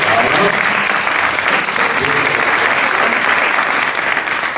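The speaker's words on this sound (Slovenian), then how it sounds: "En aplavz" A crowd applauds steadily, dense clapping filling the room at a constant loud level, with some voices mixed in.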